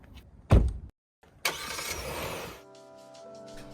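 Hyundai Palisade engine starting with a loud brief crank, a short pause, then a steadier running hum that settles into a low idle, close and with no talk over it.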